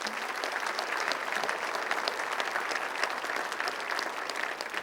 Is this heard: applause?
yes